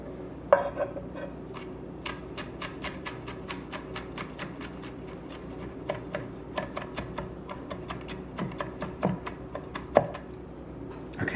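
A knife mincing garlic on a cutting board, rapid sharp taps in uneven bursts, close and fairly quiet, with short pauses between runs.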